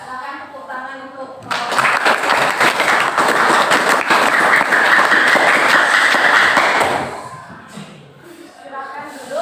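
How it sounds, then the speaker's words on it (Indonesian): A class claps for a student group during a lesson, a dense burst of applause lasting several seconds between stretches of talking. "Silakan tepuk tangan untuk"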